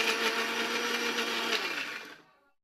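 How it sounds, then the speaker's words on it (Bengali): A kitchen blender whirs loudly as it grinds ginger, garlic and spices with water, holding a steady roar before the motor winds down and stops. "তারপর সবগুলোকে আবার ভালো করে ব্লেন্ড করে নিব।"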